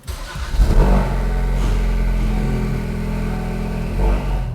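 A Ford Focus RS with an AWE Touring Edition cat-back exhaust starts with a brief rev, then settles into a deep, steady exhaust idle, close by, with a small rev near the end.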